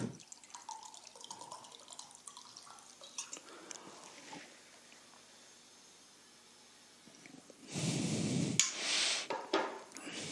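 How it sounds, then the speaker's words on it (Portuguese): A brief, close sip and swallow of water near the end, preceded by quiet handling and room tone during a classroom lecture break. No one speaks. "Deixa eu só tomar um golinho d'água aqui."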